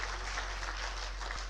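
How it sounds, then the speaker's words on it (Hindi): Crowd at a public event in Rewa honoring Mohan Naidu breaks into steady, dense clapping that fills the short stretch at an even level, with no voices standing out. "मोहन नायडू जी का जोरदार ताली बजाकर उनका अभिनंदन करें"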